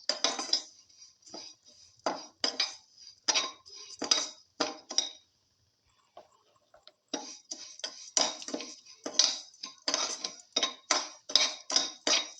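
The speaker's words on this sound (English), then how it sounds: "Salt the vermicelli thoroughly with the pumpkin pieces" Utensil scraping and clinking against a pot or bowl while vermicelli is mixed with pumpkin pieces and salt, irregular bursts of stirring with a short pause midway, close and fairly quiet.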